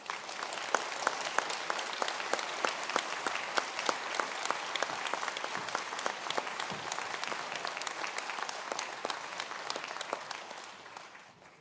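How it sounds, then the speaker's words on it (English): A round of applause for postgraduate nursing diploma graduates at a university conferring ceremony in Sligo, with steady hand clapping from a large hall audience, moderately loud and even, fading slightly at the end. "Can I now ask the graduates of the Postgraduate Diploma in Science and Community Mental Health Nursing to please stand for a round of applause."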